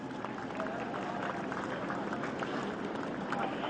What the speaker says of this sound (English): let's have a round of applause for today's jumpers